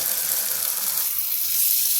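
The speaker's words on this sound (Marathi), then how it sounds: "यामध्ये मी पाणी टाकते" A short, steady hiss of water pouring and splashing into a pan of green pea cutlet mixture, continuous and close, with no talking.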